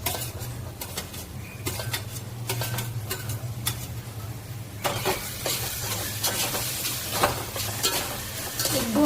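Finely chopped tomatoes, five or six of them, go into a pan of onions already fried golden for pav bhaji, giving a steady close sizzle with repeated spatula stirring and scraping against the pan.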